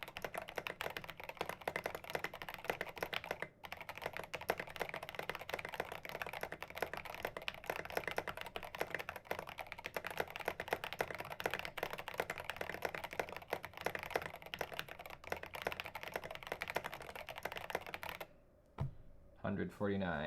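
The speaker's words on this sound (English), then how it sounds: "let's do one more typing test" Rapid, steady typing on a rebuilt Dolch Pac 60 mechanical keyboard with a TKC1800 PCB, with dense clacky keystrokes running continuously up close, then stopping abruptly near the end.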